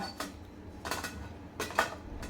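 A few soft metallic knocks and clinks as a cake tin is set down into a preheated metal pot, spaced out over a couple of seconds against a quiet background.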